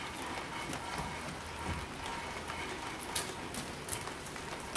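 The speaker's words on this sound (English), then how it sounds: "It's been raining all day." Rain falls outdoors on a windy day as a steady, even hiss, with a few louder drips standing out toward the end.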